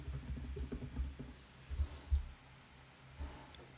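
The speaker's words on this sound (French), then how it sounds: "Et dans la barre de recherche, vous allez taper Google Drive." Typing on a computer keyboard into a search bar: a short, quiet burst of soft key clicks in irregular rhythm, close by but faint, with no voices.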